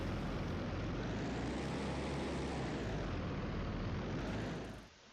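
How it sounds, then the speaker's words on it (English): A warplane in the video game Battlestations: Midway roars steadily as it comes in to land on an aircraft carrier, a loud, continuous engine drone that holds for several seconds and then cuts off abruptly near the end. "You can fly it manually, or you can order your plane to auto land."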